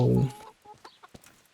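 Chickens cluck in a village in the video game Kingdom Come: Deliverance, with a short loud burst at the start followed by a few faint, scattered clucks.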